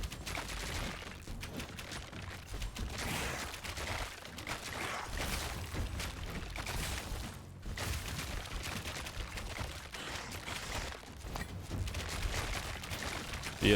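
SMG fire in Conquest Dark pours out as a dense, continuous barrage of rapid shots blended with explosions and game effects, loud and unbroken for the whole stretch.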